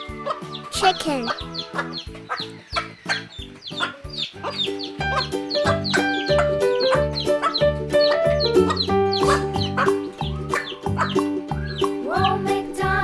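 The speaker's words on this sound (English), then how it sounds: "chicken." Farmyard chickens clucking in a busy, continuous run of short sharp clucks and squawks, fairly close and loud, layered over a light children's farm-song backing.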